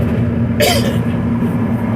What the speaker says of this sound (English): I looked to the left and coughed at the same time.